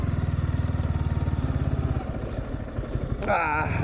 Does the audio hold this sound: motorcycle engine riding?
yes